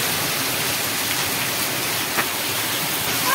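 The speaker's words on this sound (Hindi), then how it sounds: "हमारे यहाँ बहुत ही तेज़ बारिश हो रही है" Very heavy rain pours down outdoors in a dense, unbroken hiss and roar of drops hitting surfaces, loud and constant with no voices.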